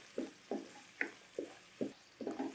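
Chopped green onion whites lightly frying in hot oil, with a series of short bursts of stirring and sizzling about every half second, close and fairly quiet, no talking.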